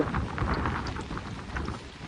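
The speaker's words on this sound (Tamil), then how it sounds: "இன்றைக்கு வந்து கூடுதலான மழை வீழ்ச்சி வந்து இன்றைக்கே அது பதிவாகி இருக்கு" Heavy rain pours steadily during flooding in Point Pedro, Jaffna, a dense, continuous hiss of water with a low rumble beneath it and no voices.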